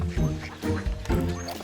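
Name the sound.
ducks quacking in an animated children's video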